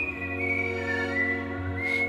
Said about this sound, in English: If only Sky Donk would stop whistling.